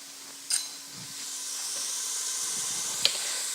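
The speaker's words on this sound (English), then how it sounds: "you're gonna sweat some onions and bell pepper" Onions and bell pepper sweating in butter in a pot for potato and ham soup, a soft steady sizzle and hiss building gently, with a couple of brief clicks from a utensil, quiet and close.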